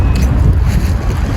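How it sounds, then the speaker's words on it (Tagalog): Strong wind buffets the microphone with a loud, continuous low rumble. "sobrang hangin ngayon"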